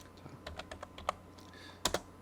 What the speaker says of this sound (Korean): 엔터 클릭 했습니다